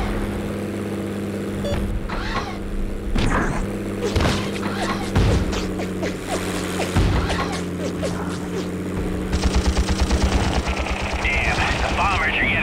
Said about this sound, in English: Those AA guns have got our number